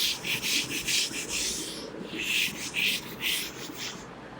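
A board is wiped clean by hand, a close, breathy rubbing in rhythmic back-and-forth strokes that keeps going for several seconds with no voices.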